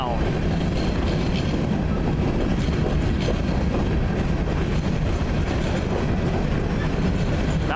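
A single CN freight locomotive passes close by on railroad tracks heading northbound, rolling slowly with loud continuous engine rumble and steady clickety-clack of wheels over rail joints throughout.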